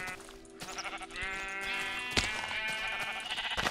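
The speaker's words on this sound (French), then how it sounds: "regarde, j'ai mes deux derniers moutons qui me manquaient pour les lits là" Sheep bleat in a video game, several overlapping wavering bleats heard close and fairly loud, with a short knock partway through and no talk.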